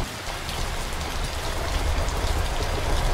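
Heavy rain falls in a dense, steady hiss throughout, loud and close, from a railway scene in Trainz Railroad Simulator 2019, with no voices.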